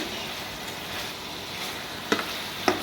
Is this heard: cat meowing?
no